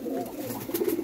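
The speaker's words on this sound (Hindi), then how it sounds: "खान सोहेल अंसार खान साहब वाले ये कबूतर हैं" Pet pigeons cooing, a short soft low call repeated twice up close in a quiet setting.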